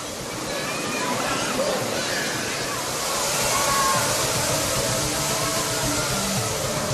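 Thirparappu waterfall on the Kothai river rushes in a loud, steady broadband roar, close by and continuous, with a voice talking over it.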